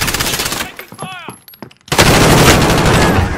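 Dense automatic gunfire rattles in a video game battle, pauses briefly while a voice speaks, then resumes as a loud, sustained barrage.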